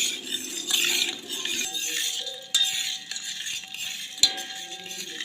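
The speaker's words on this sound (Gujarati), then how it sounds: "હવે એને આપણે હલાવીને એકદમ ગોળ ઓગાળી દઈશું" A spoon scraping and clinking against a pot as finely chopped jaggery is stirred in water to dissolve, soft irregular scrapes with a few sharper metallic taps, close and without talk.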